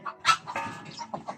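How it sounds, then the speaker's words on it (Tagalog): Hens cluck in a short series of soft, close calls on a provincial farm, a few quick clucks heard alone without talk. "Nakita ko yung manok."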